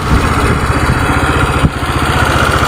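A motorcycle engine idles steadily after a carburetor cleaner fix for lost compression, a loud, close, even low putter with one brief hiccup midway and no talk.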